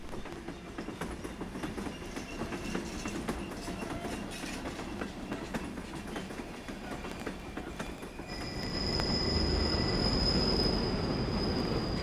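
A train rolling from Teruel toward Tarragona in Spain, a continuous rumbling ride with wheel clatter and squeal, growing louder near the end as a high steady whine joins in.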